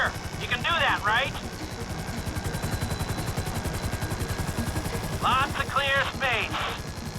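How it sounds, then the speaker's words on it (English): Helicopter hovering in place in Grand Theft Auto 5, a steady, loud rotor thump with a fast regular chop throughout, while someone talks over it at the start and end. "Just hold the chopper here."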